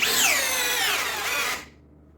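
A Parkside cordless drill on speed 2 driving screws, its motor whining steadily and loud for about one and a half seconds, pitch gliding slightly, then cutting off abruptly to near silence.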